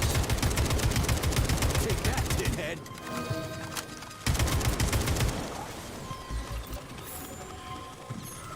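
Machine gun fire in the video game Atomic Heart, rapid and sustained in two long bursts separated by a pause with mechanical clicks, while a player talks over the gameplay.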